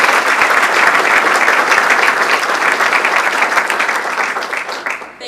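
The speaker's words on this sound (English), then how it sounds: "can we give them a round of applause for all the work?" Morning-event audience giving a round of applause, thick and loud clapping that holds steady for several seconds and then tapers off at the end.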